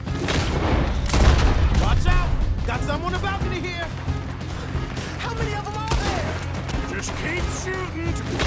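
A gunfight in Red Dead Redemption 2 during a failed robbery, with dense bursts of gunfire and booming shots running under constant shouting and talk.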